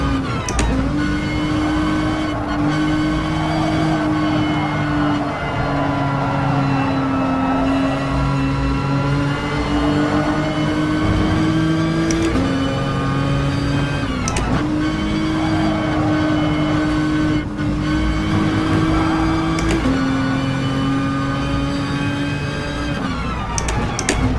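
A race car laps a track in Gran Turismo Sport, its loud engine holding a steady whine that climbs through each gear and drops sharply at several shifts, continuous throughout.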